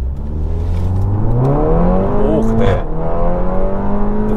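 An Audi TT 8S 2.0 TFSI Stage 1.5 launches from a standstill, its engine revving up in rising pitch through a gear change, loud and close inside the cabin, with a brief excited exclamation from a person partway through.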